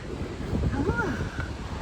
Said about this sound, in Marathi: मला नंतर आवाज घे पाण्याचा